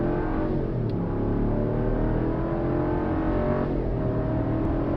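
A 2022 Ram truck launching hard from a brake boost in a 0-60 run, its engine roaring steadily and loudly for the whole stretch with rising tone, heard close from inside the cab, no talking.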